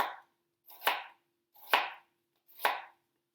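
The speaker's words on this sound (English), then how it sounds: "we can carry on chopping" Onions are chopped with a knife on a board for a cauliflower and chickpea curry: four crisp, evenly spaced chops, close and clear, with silence between them and no talking.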